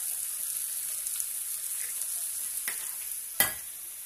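Leftover fridge ingredients for tortillas being stirred in a frying pan, a steady hissing sizzle with a couple of sharp scraping clicks of the utensil, close and without talk.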